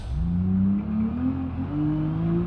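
A six-cylinder ETK car in the BeamNG.drive video game accelerates with a steady engine whine that climbs in pitch through the gears. The sound is moderately loud and continuous, with no voices.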